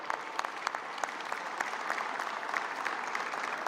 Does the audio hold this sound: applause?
yes